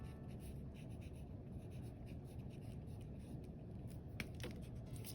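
Pencil scratching across paper while drawing a gratitude mandala, a soft continuous scribbling texture with brief sharper strokes near the end, faint and close.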